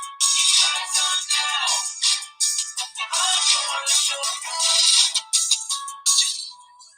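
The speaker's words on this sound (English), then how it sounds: "My phone won't shut up." A phone ringtone buzzes and jingles in bright, thin bursts with short gaps, loud and close, with high rattling tones and no low end.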